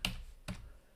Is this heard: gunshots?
no